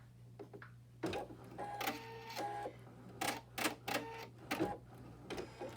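An embroidery machine stitching a gnome table topper design runs with a steady mechanical hum and rapid rattling needle strokes, broken by repeated short whirring bursts and pauses.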